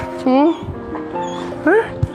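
A dog whimpers and yips, two loud, rising whines about a second apart, close by, with people talking in the background.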